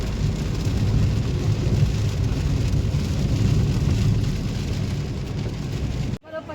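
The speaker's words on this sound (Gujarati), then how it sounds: "વરસાદ આવી ગયો છે." Heavy rain pours onto a road on the way to Agra as a loud, steady, dense roar, then cuts off abruptly near the end.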